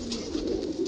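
Pigeons inside a net enclosure give a brief, soft cooing call, close by and alone.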